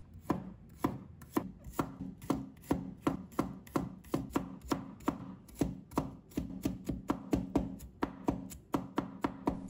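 Garlic cloves chopped finely with a knife on a cutting board, a steady run of sharp, close knife taps in quick even rhythm with brief pauses, no voices.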